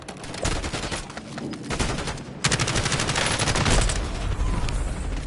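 Sustained automatic gunfire from Call of Duty: Warzone, dense bursts of rapid shots that intensify partway through and stay loud and close to the end.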